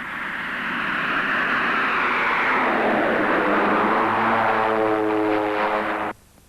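A Pilatus PC-6 Porter turboprop on short landing with extreme reverse thrust roars loudly and steadily, its broadband propeller wash swelling into a droning whine with harmonic tones before cutting off abruptly near the end.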